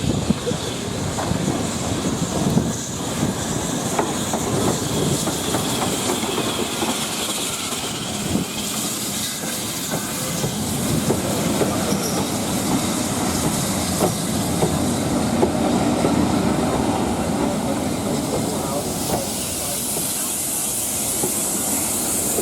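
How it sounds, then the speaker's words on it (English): BR Standard 9F steam locomotive 92214 'Leicester City' on the Great Central Railway rolls into platform 2 with a train for Loughborough, a steady broadband rumble and hiss with faint wheel clatter building and holding close by. "a train bound for Loughborough heading into platform 2"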